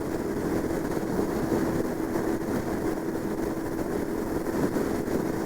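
A semi truck closes in from behind a Royal Enfield Himalayan motorcycle on a US highway, its steady engine drone mixed with loud wind and road roar at constant volume.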